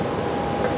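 An airliner arriving from Perth touches down on the left runway at Brisbane Airport, a steady, loud broadband jet roar with a low rumble, heard alone and unbroken.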